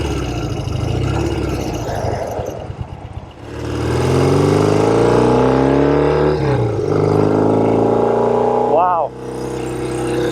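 A 1972 Norton 750 Commando Combat motorcycle engine drones loudly and steadily while riding, pitch climbing and falling with throttle changes, with a brief spoken exclamation over the engine noise.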